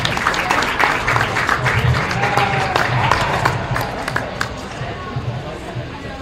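A crowd claps for children at a county fair sheep show, a steady, moderately loud patter of applause lasting several seconds, with voices talking over it.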